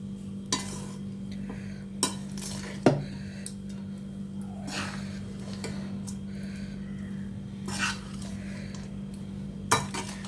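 A spoon scrapes and taps against a pan at a slow, uneven pace while a lemon rice mixture with grated coconut and salt is stirred, over a low steady hum, with no voices.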